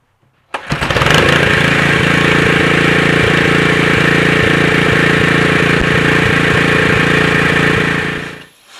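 A Honda GX120 small engine fitted with an Excel spark plug catches and then runs loud and steady for several seconds with an even, slightly uneven-pulsing drone before shutting down near the end, with no talking.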